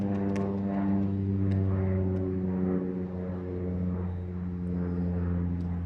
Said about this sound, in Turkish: Uçağa bak ya